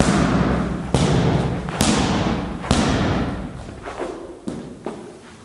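Punches thrown in a boxing technique drill land as a series of dull, heavy thuds, about six irregular impacts at close range with no talking.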